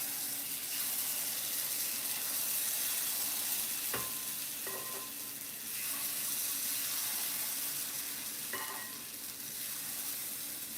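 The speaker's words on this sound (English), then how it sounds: "it does make that kind of noise, you know, the sizzling noise, which is lovely" Bánh khọt batter sizzles and fries steadily in a hot pan, a continuous close crackling hiss with a few light clicks of utensils.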